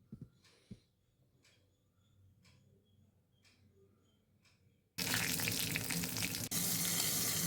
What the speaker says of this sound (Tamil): ஒரு கடாயில் எண்ணெய் ஊற்றி கடுகு உளுந்தம்பருப்பு கொஞ்சம் அதிகமாக அதை தோல் உளுந்து அதிகமாக போட்டு தாளித்து